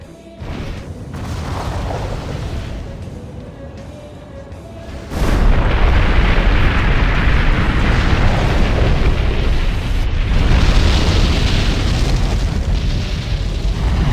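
Cannon fire and explosions in the mech combat game Armored Core For Answer: a sustained, loud barrage of booming blasts and rumbling bursts, intensifying after a sudden heavy explosion, with no talk.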